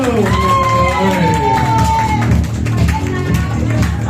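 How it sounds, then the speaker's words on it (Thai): A seminar audience claps and cheers for a speaker after a sales technique talk, a steady crowd roar with whoops and shouts alongside voices and an announcer's call, holding loud throughout. "ขอเสียงปรบมือดังๆนครับกับท่านอาจารย์ภูวสิทธิ์จังเกลว"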